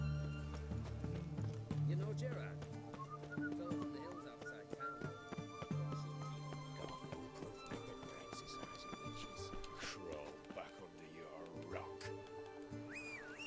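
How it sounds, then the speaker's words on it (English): Horse hooves clip-clopping at a gallop with an occasional whinny in The Witcher 3 video game, set against a game music score and speech. "that's where I'll call the horse"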